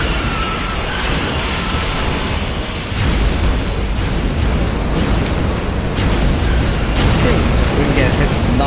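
Bombs explode in the video game Centipede Jr., a dense run of booming bursts that continues loudly without a break and grows slightly stronger about three seconds in.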